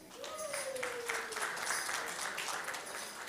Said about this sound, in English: a very big clap for her